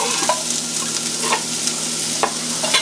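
Ginger and onion sizzle steadily as they fry in a pan, with a continuous crackling hiss and a few soft stirring scrapes.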